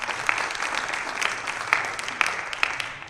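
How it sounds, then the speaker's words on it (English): Applause from an audience at a squash coaching day, a dense steady patter of many hands clapping for about three seconds, with a few sharper louder claps standing out near the end. "Round of applause, please."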